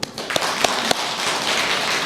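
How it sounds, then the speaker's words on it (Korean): A congregation at a Buddhist dharma talk on a temple observance day claps: a few separate sharp claps open, then they merge into a dense, continuous patter of applause throughout the hall. "박수."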